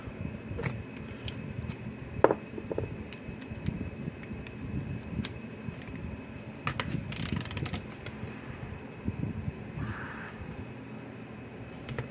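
Repeated clicking ratchet strokes from a wrench tightening a fastener on a Tru-Test MP600 livestock scale load bar with a newly installed load cell, close and moderately loud, with intermittent metallic clanks and no talk.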